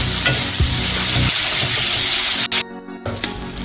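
Onions fry in a pan with turmeric and salt, sizzling steadily while a utensil scrapes and stirs. There is a brief sharp break in the sound near the end.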